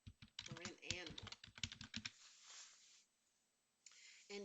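Rapid clicking on a computer keyboard, with dense bursts of keystrokes for about two seconds, a quiet pause, then a few more taps near the end, mixed with some vocal sound early on.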